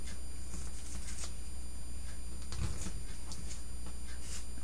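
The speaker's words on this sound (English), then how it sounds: "Make sure to get the paper off." Paper backing is peeled off an envelope with a few short, crisp rustles and tearing scrapes spread across a steady background hum, faint and close.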